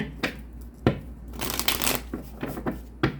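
A deck of cards is riffled and shuffled up close, with a long fluttering burst between soft taps and snaps of the cards.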